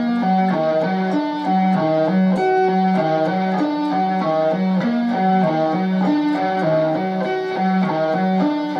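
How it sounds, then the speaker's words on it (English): Guitar playing a hybrid arpeggio lick slowly, with clear repeating picked notes in an even, steady pattern and a light effects tone, loud and close with no talking. "And the lick sounds like this, slow."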